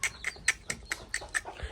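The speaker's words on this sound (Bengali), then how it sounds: "দেখুন গাইস আমাদের মুরগির বাচ্চাগুলো।" Five young chicken chicks chirping in a quick series of about eight bright, separate peeps, close by and fairly faint.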